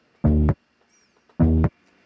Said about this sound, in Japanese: サンプリングして作ったベースの音みたいな感じの、ちょっと雑音も混じってるようなベースラインの音